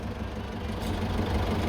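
Jeepney with a 4BC2 diesel engine idling, a close, steady low rumble with an even chugging texture, heard alone without talk.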